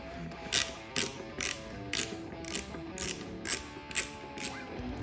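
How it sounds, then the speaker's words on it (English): A ratchet wrench removing a 10mm bolt from the front number plate of a Honda CRF250F dirt bike, a quick repeating series of close, crisp clicks in short strokes. "Removing this 10mm bolt right here."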